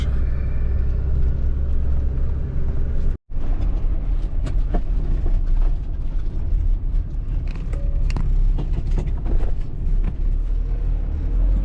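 A ZIL-130 truck drives along village roads, with a loud, continuous low engine rumble and road noise heard from inside the cab. There is a brief dropout near the start.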